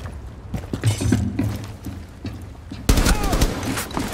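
Gunfire in a first-person shooter video game: scattered shots early, then a louder sharp burst of rapid fire near the end, with voices talking in between.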